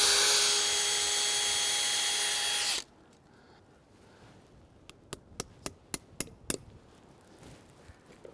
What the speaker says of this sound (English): I'm going to go right in the middle here, and you just drill a hole